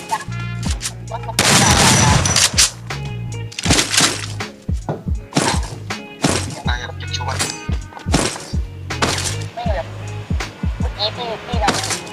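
Gunfire in an online shooter game rings out in dense, loud bursts and rapid sharp shots over about twelve seconds, mixed with impacts and clatter while a player talks excitedly throughout.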